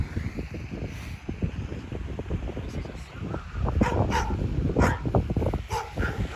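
A dog barks a few times outdoors, some distance off, under heavy wind buffeting on the microphone.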